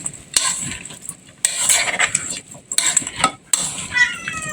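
A metal spoon clatters against dishes while kilawin is prepared, with sharp clinks and scraping bursts coming in irregular bunches, close and fairly loud, over brief faint background voice.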